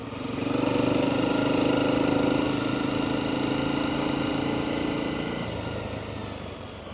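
A motorbike engine hums steadily while riding through fields in Eastern Europe, a sustained drone that swells early and then slowly fades, with no talk.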